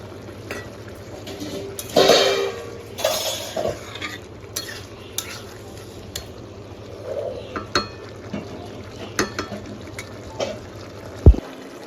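Bowl-rinsing water goes into a pot of ash gourd curry, a short splashing pour followed by scattered spoon-against-pot scrapes and clinks in a quiet kitchen.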